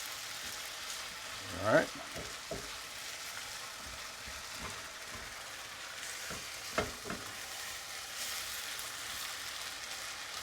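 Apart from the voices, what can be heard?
garlic and ginger frying in a pan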